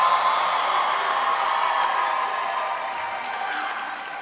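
A crowd at a medical school white coat ceremony applauds and cheers in dense continuous clapping with scattered whoops, fairly loud and gradually fading over a few seconds, without speech.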